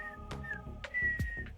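Someone whistles a tune from Star Wars in a short, clear tune of a few sustained notes, with brief noisy interruptions between phrases.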